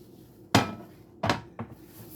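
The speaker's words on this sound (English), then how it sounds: "I'm gonna put this bowl up" A clean bowl being set up on a kitchen shelf makes three sharp hard knocks, two loud and close, then a lighter third, with quiet between.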